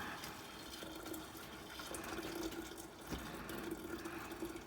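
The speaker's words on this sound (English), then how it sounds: "I'm just filling it up to this part while it does the tea part." Water from a faucet runs into a jar for kombucha, a soft steady stream with a faint gurgling fill, quiet and continuous with no voices.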